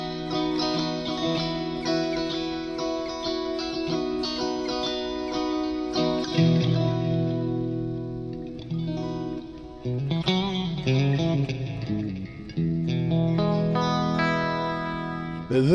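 Electric guitar played through an effects unit, with distorted, chorused, echoing notes and chords ringing continuously at a steady, fairly loud level, with no talking over it.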